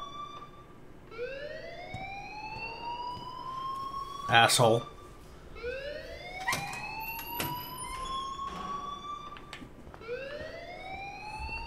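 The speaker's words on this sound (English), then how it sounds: "please turn off that alarm" In Life is Strange, a school alarm wails in repeated rising siren sweeps, about every two to three seconds, steady and fairly loud, while a voice speaks briefly over it.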